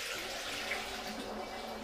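Water poured by ladle into a still for distilling pear brandy, a steady close splashing and trickling that runs without break and without talk.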